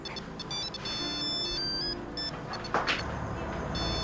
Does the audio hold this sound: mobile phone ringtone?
yes